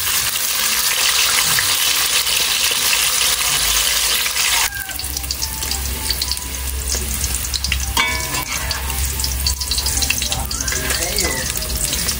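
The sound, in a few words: frying eggplants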